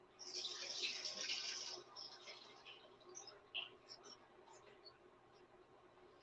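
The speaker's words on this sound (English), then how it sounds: "I think we'll pour the water off" Water poured off into a kitchen sink: a hissing splash for about two seconds, then scattered drips and small clatters, with quiet talk underneath.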